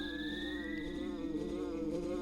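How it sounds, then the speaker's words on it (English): An insect-like buzz from a bug in the video game EarthBound hums steadily over a continuous droning background, with no one talking. "Am I gonna just have a bug flying around my head forever?"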